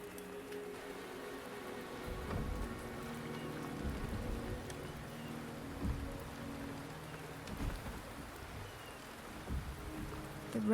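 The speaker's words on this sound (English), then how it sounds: "The rain is subsiding, and the sky will soon clear." Steady rain falls in the video game Wuthering Waves, a continuous patter of drops on surfaces with occasional heavier bursts, moderately quiet and with no voices.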